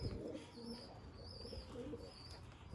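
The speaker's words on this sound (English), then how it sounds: "there's one of your birds up there on the rooftop again" A racing pigeon coos softly in a few low, rolling phrases, faint against an open outdoor background with light chirps from other birds and no speech.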